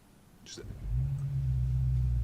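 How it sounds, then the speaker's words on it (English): A 2025 BMW M5 Touring's V8 engine cranks and catches, settling into a deep, steady rumbling idle after a short whir. "we have the V8 turning on. And now listen to the iconic V8 sound."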